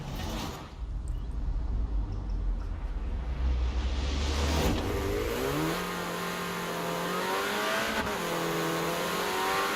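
Front-wheel drive Renault hot hatch launching hard in Forza Horizon 4, the engine revving loudly with a brief tire squeal, then climbing through gear changes with rising and falling pitch, close and sustained with no talking.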